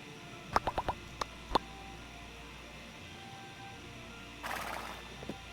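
Sharp hoof knocks in a quick burst from a horse in the video game My Time at Portia, then a few single clops, a brief snort or neigh-like rasp and two more soft knocks, all fairly close over a quiet background.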